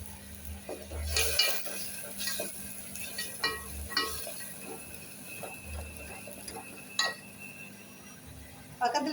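Ginger, green chili and cumin paste sautéing in oil for kichadi, with a soft sizzle under scraping spoon stirs and occasional clinks of utensils against the pan, plus faint background voices.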